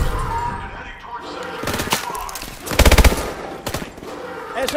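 Submachine-gun bursts in the game Call of Duty Advanced Warfare, a short loud rattling volley of rapid shots amid battle noise, music and intermittent voices.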